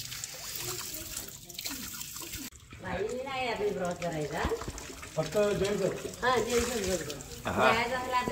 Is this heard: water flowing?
yes